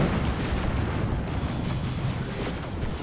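A heavy turret is destroyed in a Dawn of War 2 battle, giving a loud, sustained rumbling blast that fills the whole moment with dense low roar and no talk.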